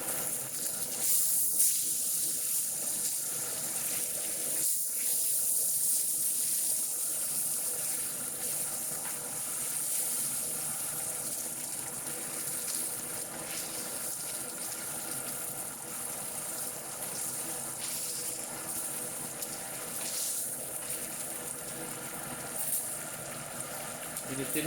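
Salmon fries in a pan over medium heat with a continuous soft sizzle and hiss that stays steady and fairly quiet throughout, with scattered small crackles.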